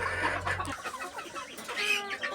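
A small farm flock of six hens and one rooster clucks in short, fairly quiet bursts at close to middle distance, with no talk.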